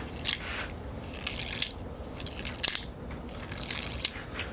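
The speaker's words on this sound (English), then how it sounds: "What you're hearing there is the battery flying out of these and actually smacking the front of your field tip" Lighted archery nock batteries flying out on impact and smacking against arrow field tips: several sharp, crisp clicks and taps at irregular intervals over a low background hiss.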